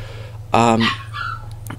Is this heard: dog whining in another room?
yes